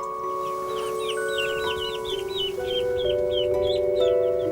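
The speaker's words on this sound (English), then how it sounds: "We've got a nice little clutch of both chickens and ducks." Hens and ducks with their young on a Victorian-era farm: a busy chorus of clucking and chirping calls, close and fairly loud, with a steady background hum and no talking.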